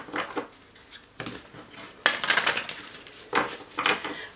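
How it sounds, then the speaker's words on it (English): Tarot cards are shuffled by hand in a series of short, crisp riffling bursts, close and moderately loud, with quiet pauses between the shuffles. "so I will do a bit of shuffling."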